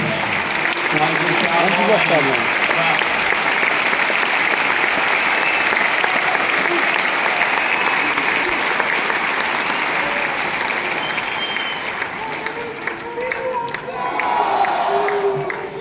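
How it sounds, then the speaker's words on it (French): A large arena crowd at Bercy applauds and cheers tennis player Gilles Simon in a loud, sustained ovation with shouts and whoops mixed in, dipping briefly near the end before swelling again. "Arrête, tu es grave de m'applaudir."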